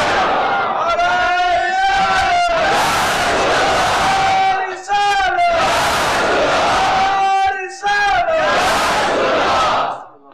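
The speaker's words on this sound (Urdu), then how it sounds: "ہم نے یہ نعرہ لگایا" A large crowd loudly chants the religious slogan Ya Rasool Allah in rhythmic unison, with repeated bursts of massed voices separated by brief pauses, filling a gathering at a sermon.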